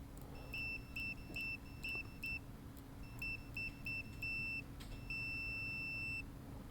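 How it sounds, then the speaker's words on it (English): A Gochifix LG302 multimeter on continuity test gives a series of high, clean electronic beeps in short repeated bursts with brief pauses between them, then one longer held tone. The beeps sit over a steady low background hum. "It beeps, stops for a while, and then beeps,"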